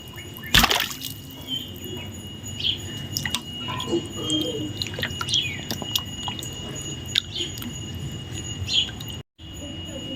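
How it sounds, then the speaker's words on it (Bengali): Chicken pieces rinsed in water in a home kitchen: close drips and small splashes, with one sharp splash near the start and a brief dropout near the end. "তো প্রথমে আমি চিকেনগুলো ভালো করে ধুয়ে নেব।"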